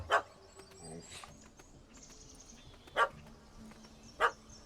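A dog in The Witcher 3 barks in sharp, separate yaps, three clear barks spaced a second or more apart, fairly close and alone over a faint game ambience.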